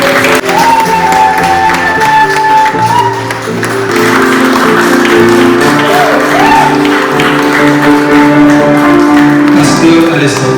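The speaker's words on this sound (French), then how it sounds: "Est-ce que nous pouvons applaudir?" A church congregation applauds at a consecration service, with loud crowd clapping mixed with shouts, whoops and cheering, while music and a voice carry on over the noise throughout.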